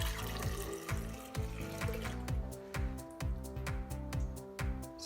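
Water tinted with food coloring is poured into a container for making dye, a liquid splashing and gurgling in a repeating, pulsing pattern at moderate loudness.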